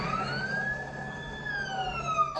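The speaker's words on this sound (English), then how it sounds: "A viewer capturing multiple lights and sirens whizzing by" Multiple police sirens wail in long rising and falling tones over a steady rumble of traffic, staying loud and close as the emergency vehicles pass.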